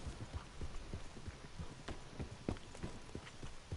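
Horse hooves walking in Red Dead Redemption 2, a steady close clip-clop of uneven footfalls over a continuous outdoor background hum, with no talking.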